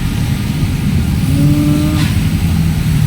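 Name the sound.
large truck passing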